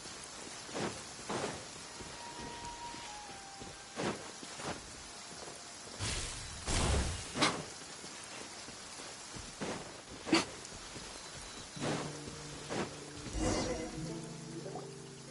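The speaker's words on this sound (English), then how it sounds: "If this rain keeps up, my fur will be dripping wet." Rain falls in the video game Genshin Impact as a soft steady hiss, with several brief louder swells and faint tonal game sounds over it.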